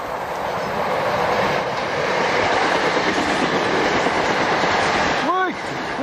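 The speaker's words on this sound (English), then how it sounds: "Wait for me, train!" A train rumbles past nearby in a loud, steady roar of wheels and carriages with clickety-clack rhythm, ending with a brief rising squeal near the end.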